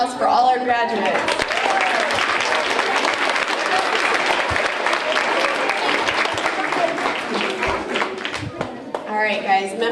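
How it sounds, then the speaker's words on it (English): A final round of applause for graduates at a school DARE ceremony, a crowd clapping loudly and densely with scattered cheers and voices mixed in, fading briefly before swelling again. "All right, one more final round of applause for all our graduates."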